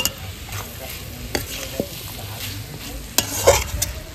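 Banana flower curry sizzles in a pan as ghee goes in and a spoon stirs it, with steady frying hiss broken by scraping strokes and a few clinks against the pan.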